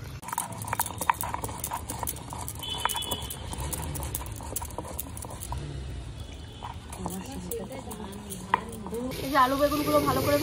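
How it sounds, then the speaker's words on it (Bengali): Potatoes and eggplants fry in a pan with a constant sizzle, while rhythmic clattering knocks of a utensil against the pan and a voice in the background sit over it. "এই যে আলু বেগুনগুলো ভালো করে ভাজা হয়ে গেছে"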